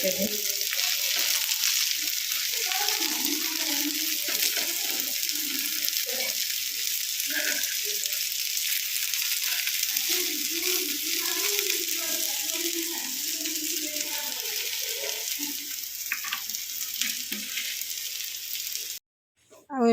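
Okra and kakhar flowers fry in a pan with a steady, loud hissing sizzle throughout, under a voice speaking intermittently, before the sound cuts off abruptly near the end.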